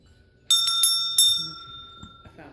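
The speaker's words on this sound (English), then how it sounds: "I found my bell." A small hand bell, rung to clear energy, strikes three bright rings in quick succession, each leaving a clear metallic ring that slowly fades, with a fainter tap near the end.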